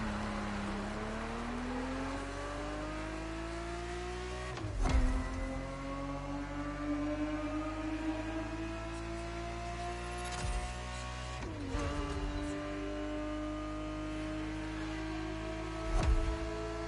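A Ferrari 365 GTB4 in The Crew Motorfest video game, its engine droning and climbing steadily through the revs, with three sharp shifts where the pitch drops and rises again, no voices over it.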